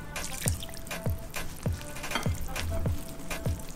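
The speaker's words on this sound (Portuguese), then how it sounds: "agora eu vou alternar o óleo e a água aos pouquinhos" Oil and water poured little by little into avocado-lime cake batter while whisking, giving a steady wet stirring with regular clicking strokes about twice a second, close and fairly loud.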